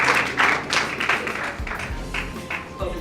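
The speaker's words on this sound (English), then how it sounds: "Give him a round of applause" An audience at a Bible game demonstration gives a short round of applause, a few sharp claps mixed with murmuring voices.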